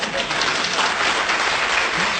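An audience at an outdoor poetry event claps in steady, dense applause that fills the whole stretch at an even, loud level.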